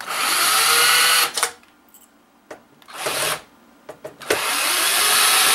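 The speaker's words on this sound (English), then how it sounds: "So by unscrewing these screws, the top comes off." A power driver whirs in loud bursts while unscrewing screws from a video game console, three spells of high motor whine separated by short quiet gaps and small clicks, close up.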